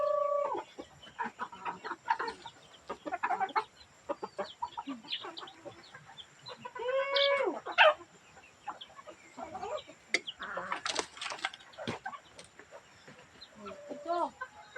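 Chickens cluck and squawk steadily while being fed, with scattered bird calls rising over one another and a person's voice talking intermittently through the farmyard noise.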